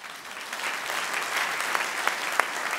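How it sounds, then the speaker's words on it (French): A conference audience applauds in a hall, dense sustained clapping from many people with a few sharper nearby claps standing out, no speech over it. "je pense que finalement on peut l'applaudir et le remercier de sa présence"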